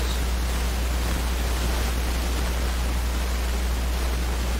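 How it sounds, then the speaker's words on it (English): A loud computer fan runs steadily, giving a constant broadband whoosh with a low hum underneath, close by and unchanging throughout. "No, it's my fan."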